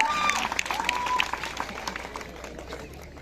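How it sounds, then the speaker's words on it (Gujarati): Crowd at a village welcome event in Bogaj clapping together, a brisk scattered applause that starts fuller and thins slightly toward the end, with a tonal whistle or shout briefly over it early on. "જોરદાર જાનદાર અને શાનદાર તાળીઓનો વરસાદ થઈ જાય"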